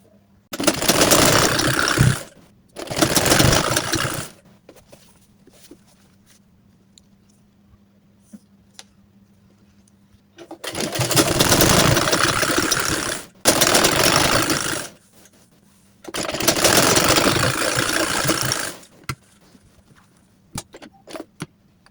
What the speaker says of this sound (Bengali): এখন এই সাইডটা সেলাই দিব।